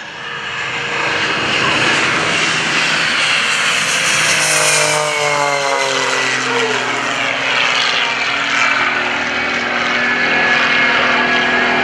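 A 310-horsepower aerobatic propeller airplane roars past close by at an airshow, engine rising to a loud peak then sweeping down in pitch as it moves away, with no speech.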